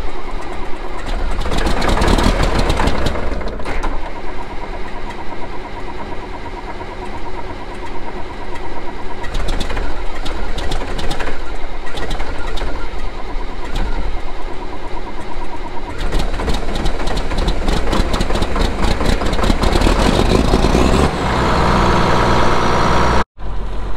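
An old farm truck engine cranks repeatedly, catches and roars, then settles into a loud, rough idle close by.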